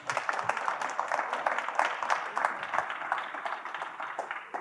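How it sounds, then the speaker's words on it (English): An audience at a CannaTech conference talk claps in a dense, sustained round of applause, moderately loud and even, lasting the whole stretch. "Can we get a round of applause for Lorne?"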